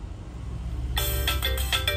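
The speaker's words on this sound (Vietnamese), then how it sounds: "Cái này em sẽ test bằng cái cả cái âm chuông của máy nữa nhé" A Nokia N95 mobile phone rings loudly close by, its bright tonal ringtone starting abruptly after a second of quiet and repeating in short pulsing bursts over a low background hum.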